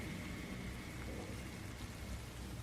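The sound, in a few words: heavy rain sound effect in a forest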